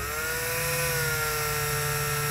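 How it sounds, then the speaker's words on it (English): A power drill runs steadily while boring a small pilot hole through the back of a vehicle instrument panel, a loud continuous whine at an even pitch. "We're gonna take a very, very small pilot hole and drill a hole"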